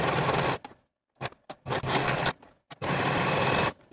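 A sewing machine stitches along the side and bottom edges of a dress in loud, steady bursts of rapid needle chatter, separated by short pauses and a few brief clicks.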